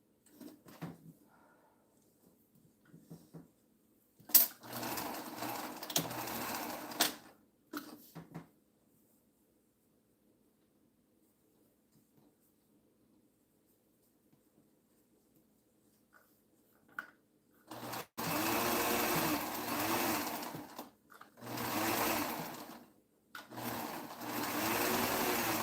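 A sewing machine stitches a maternity coat in two runs of rapid whirring bursts separated by quiet pauses, close and fairly loud, after trouble with a loose presser foot screw.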